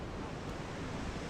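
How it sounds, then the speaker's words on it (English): Sunburst Falls, a roadside waterfall on the West Fork of the Pigeon River in Pisgah National Forest, pours as a dense, steady broadband roar, close and unbroken. "This is a roadside waterfall"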